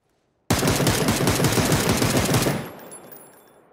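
Loud continuous automatic gunfire from the video game PlayerUnknown's Battlegrounds rattles rapidly for two seconds, then cuts off into a fading echo tail.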